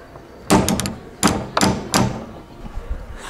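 A door into holiday accommodation is handled and opened, producing a series of sharp knocks and thuds, several close handle clunks in quick succession followed by a few softer taps, with no one talking.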